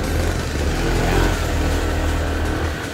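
A Toyota AE86 Trueno with a Silver Top DOHC 20-valve engine revs loudly and close up, the note rising to a sustained high-revving peak before easing slightly.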